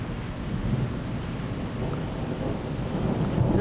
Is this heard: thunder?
yes